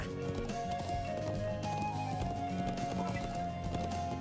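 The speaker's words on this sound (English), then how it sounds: "I actually get to ride the horse." Horse hooves clip-clopping steadily while riding in The Legend of Heroes: Trails of Cold Steel, a continuous galloping rhythm set under busy game music and effects, with no talk.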